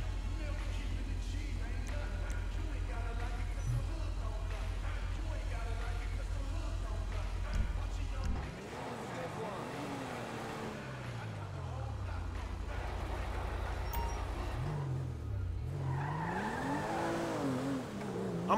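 A car driving in the video game GTA 5, with a low, steady engine drone under frequent talk, then changing revs and wavering engine tones in the second half as people keep speaking.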